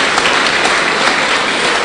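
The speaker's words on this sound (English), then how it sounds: "Let's give a round of applause to Honorable Samuel Okudu" An audience applauds a speaker, giving a dense, loud, continuous round of clapping that fills the room evenly with no speech over it.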